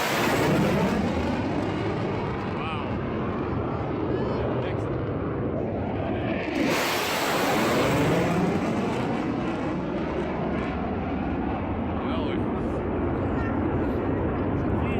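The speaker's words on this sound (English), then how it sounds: "These F-35s doing a low flyby." Loud, continuous roar of F-35 fighter jets on a low flyby, a dense broadband rumble that swells into a brighter hiss midway as the jets pass close overhead, with voices faintly mixed in.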